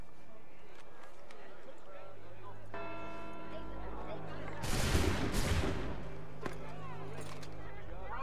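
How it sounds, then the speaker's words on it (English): Gunfire aimed at civilians in Assassin's Creed III: a loud, sharp volley bursts out midway over a steady game soundscape with a tolling bell tone, and scattered shots follow afterward. "哇，开始朝平民开枪了。"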